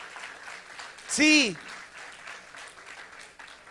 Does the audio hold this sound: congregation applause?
yes